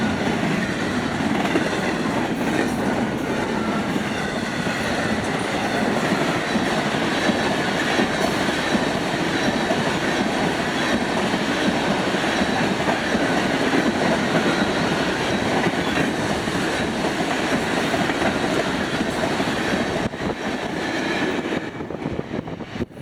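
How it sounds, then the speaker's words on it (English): A long Florida East Coast Railway freight train rumbles steadily past at close range at Racetrack Road, Jacksonville, Florida, with continuous rolling wheel noise and rhythmic clatter that holds for the whole stretch before easing slightly. "It's a long train, nice."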